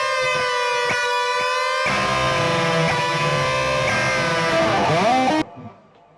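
A distorted electric guitar solo through a Marty Friedman signature SansAmp pedal, layered with a harmony line and a small delay, rings as a dense, edgy wall of sustained notes before cutting off abruptly into quiet.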